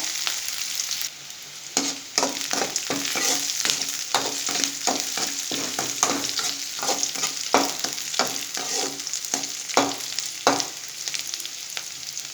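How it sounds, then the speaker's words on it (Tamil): Onions sauté in oil for a potato stir-fry, a constant sizzle broken by regular rhythmic scrapes of a spatula against the pan, close and fairly loud. "வெங்காயம் போட்டு வெங்காயம் கொஞ்சம் பொன்னிறமாக வர மாதிரி வதக்கிடலாம்"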